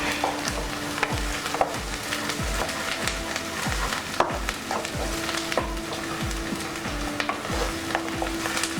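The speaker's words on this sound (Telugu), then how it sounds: "ఉల్లిపాయలు గోల్డెన్ బ్రౌన్ వచ్చే వరకు మనం ఫ్రై చేసుకుందాం." Sliced onions fry in a pan alongside ginger-garlic paste for spinach chicken, giving a steady sizzle broken by regular rhythmic scraping strokes of a stirring spoon, close and fairly loud throughout with no talking.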